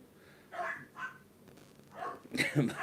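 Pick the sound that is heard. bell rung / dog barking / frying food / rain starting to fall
dog barking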